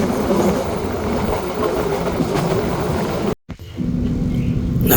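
A Parahyangan passenger train crossing the high Cisomang railway bridge in Indonesia, heard from on board as a steady loud rumble and rattle of the coaches, broken briefly by a sudden drop near the end before the noise returns.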